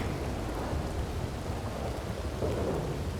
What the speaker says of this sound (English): I'm just a guy standing in the rain, really.